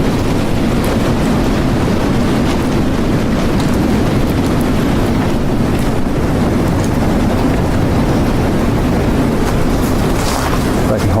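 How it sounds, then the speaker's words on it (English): Strong wind roars steadily through trees in a creek bottom, a dense, loud, unbroken rush with no voices. "Give you an idea of how windy it is."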